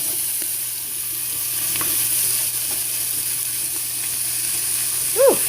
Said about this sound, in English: The bacon's in there and frying